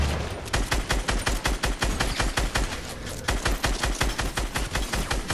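Rapid gunfire in the video game Fortnite: a dense, fast stream of sharp shots cracks on and on without pause, loud and close, with no talk over it.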